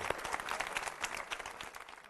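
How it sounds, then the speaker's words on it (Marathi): Loud, dense applause from a studio audience at a Marathi television game show, sustained crowd clapping that fills the whole stretch and eases off slightly toward the end. "जरा जोरदार टाळ्या वाजल्या पाहिजेत आता या खेळामध्ये"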